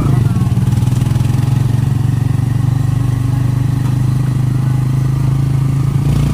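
Motorcycles ridden by students on a road near a school drone past, a loud, continuous engine clatter and buzz close by.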